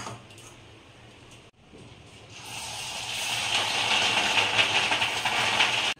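Fish roe fritters fry in hot oil, starting as a quiet sizzle, then after a brief pause swelling into a loud, steady hiss and crackle once more batter hits the pan.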